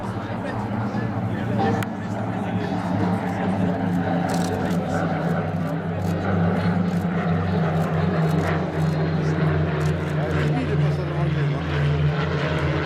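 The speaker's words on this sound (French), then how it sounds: "La magnifique son, c'est le moteur Renault." A propeller airplane with a Renault engine drones steadily with a deep, throbbing hum, holding constant as it passes at moderate distance at an air base open day.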